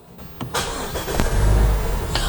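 A 2018 Mazda CX-3 2.0C starts by push button: a short starter crank catches into a loud, close engine that settles into a steady rumble, with no voices.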